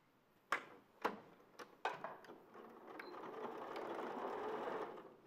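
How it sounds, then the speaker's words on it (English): A sewing machine stitches a garment seam, starting with a few sharp mechanical clicks and then settling into a faint, steady whirring hum with no talking. "So I'll sew to here, pivot, and then readjust to sew along that section there."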